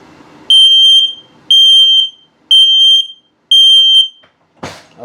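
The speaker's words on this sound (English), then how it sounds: "and then your low battery alert" An LP gas and carbon monoxide detector in a 2022 Palomino Puma 315BHTS travel trailer sounds its low battery alert: four loud, piercing electronic beeps, each about half a second long, evenly spaced about a second apart, followed by a brief rustle.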